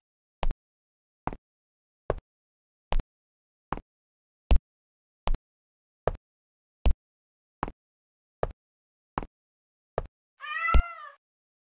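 A cat meows once near the end of a Cartoon Cat mobile horror game sequence, after a long run of evenly spaced sharp clicks or knocks at roughly one per second; no talk.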